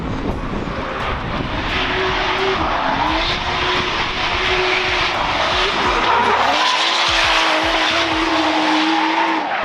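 A drift car skidding around a corner during qualifying, with a loud engine note that rises and falls and a continuous tyre screech, close and dominant throughout.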